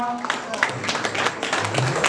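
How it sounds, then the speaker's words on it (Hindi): Audience applause for dancers after a Ramayan-based dance drama staged by a Lucknow cultural society, a sustained patter of many hands with a voice speaking over it. "जोरदार तालियां भैया कलाकारों के लिए"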